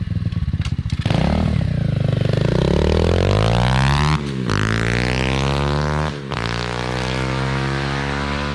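An SSR 125 pit bike on its first ride, its engine loud and close, revving up through the gears with rising pitch and short dips at each shift.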